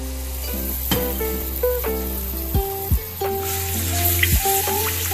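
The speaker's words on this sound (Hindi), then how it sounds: "अब हम इसमें लहसुन अदरक का पेस्ट डाल देंगे।" Garlic ginger paste sizzles and spits in hot oil in a pan, with a steady frying hiss broken by a few sharp clinks of a utensil against the pot.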